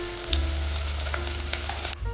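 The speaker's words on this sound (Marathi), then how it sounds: "आता फ्राय करतोय लालसर कांदा होईपर्यंत" Chopped onions frying in oil until reddish for a spicy dry-style mutton dish, giving a steady, close sizzle with faint crackles and a low hum throughout, no voices.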